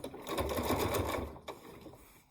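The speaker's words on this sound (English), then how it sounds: "And sew it down." A sewing machine stitching down barn quilt fabric, its needle running in a steady, fast rhythmic whir at fairly low volume, then stopping briefly near the end.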